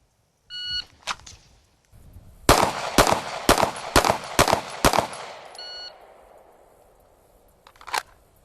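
Six quick pistol shots ring out in an evenly spaced string, loud and close, framed by the high electronic beeps of a shot timer before and after, with another single shot near the end.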